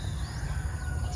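Native chickens and roosters clucking in a farmyard, a soft steady scatter of low clucks under a faint background murmur.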